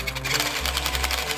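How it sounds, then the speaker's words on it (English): An old RC car with stripped gears gives off a rapid, buzzing, machine-like clicking and whirring, close and steady, with a low hum rising partway through. "Man, I can hear clicking in that."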